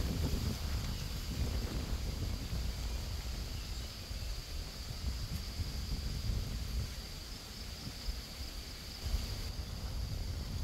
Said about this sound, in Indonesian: Angin kuat sangat, nak hujan.